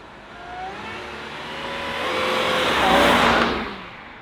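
A 2003 Jaguar S-Type R engine pulls hard on kickdown, its rising note swelling steadily to a loud peak near the end and then easing slightly, with no voices.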